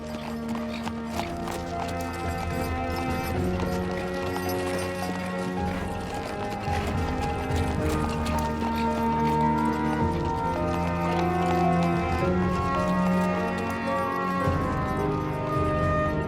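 A horse-drawn carriage's hooves clip-clop in a steady rhythm beneath a continuous musical score, with the hoofbeats sitting well inside the music rather than standing out on their own.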